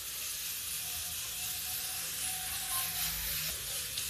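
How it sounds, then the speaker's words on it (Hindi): Black chickpeas (kala chana) boil in a pot on a gas stove, giving a steady broadband hiss and bubbling that holds evenly throughout at moderate level. "इधर मेरा छोला बॉयल हो रहा है"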